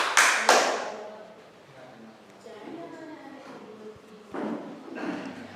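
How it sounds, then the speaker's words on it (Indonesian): A short burst of applause for a presenting group in a classroom opens loudly and fades within about a second, followed by quieter background murmuring and another faint patter of claps later. "Kita berikan tepuk tangan dulu untuk yang presentasi depan"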